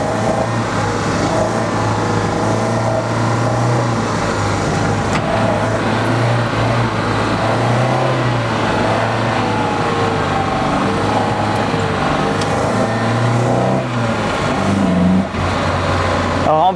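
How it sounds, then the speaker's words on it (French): A 1967 Opel Rekord drifting through a corner, its engine roaring steadily and loudly at high revs for the whole stretch, with the tone rising and falling only slightly. "De la glisse avec cette voiture de 1967."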